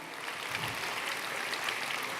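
A church congregation claps for Jesus, steady massed applause at moderate distance that goes on without a break and without speech.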